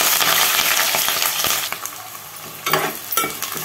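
Sliced onions and green chillies frying in hot oil with cloves, cinnamon and bay leaf for a country chicken curry, a steady bright sizzle with a few scraping stirs and clinks of a spoon against the pan.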